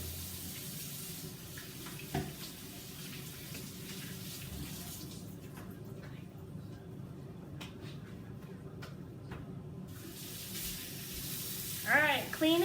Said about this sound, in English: So we're gonna wash our hands real quick.